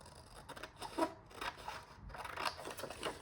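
Scissors snip quickly through printed paper images, producing a rapid series of close, crisp cuts with short pauses between them.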